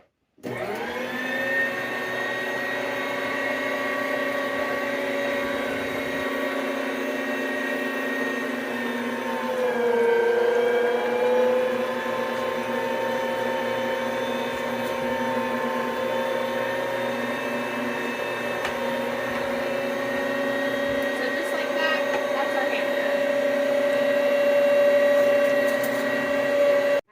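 An electric meat grinder runs steadily while grinding deer meat, a continuous motor whine with stable harmonics that dips briefly in pitch partway through as it takes load, then holds on, close and alone with no talking.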